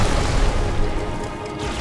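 A Halo 2 grenade goes off in one loud, close blast that rumbles and fades over about two seconds, with no voices.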